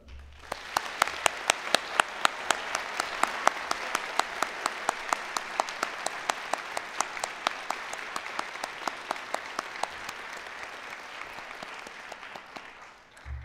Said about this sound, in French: c'est le temps d'applaudir chaleureusement les nouveaux docteurs